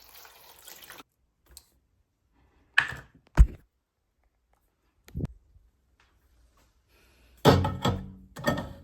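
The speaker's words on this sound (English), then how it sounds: "I am here walking through the door now to take you through." Door opening and closing as someone walks into a room, heard as a few separate thuds and clunks with quiet gaps between them, ending in a louder cluster of knocking and rattling.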